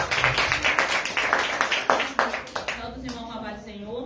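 A church congregation at an Easter service claps in a steady, even rhythm, many hands together in a reverberant hall, with voices talking underneath as the clapping thins out toward the end.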